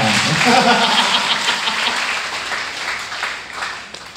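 A church congregation claps, loud at first and then gradually thinning out, with a few voices mixed in near the start.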